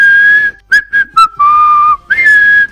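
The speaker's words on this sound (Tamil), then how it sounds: "விசில் ஊதிக்கிட்டே வந்து கதவை திறக்க" Someone whistles a short tune up close: long sustained notes broken by a few quick chirps, clear and loud with no talking.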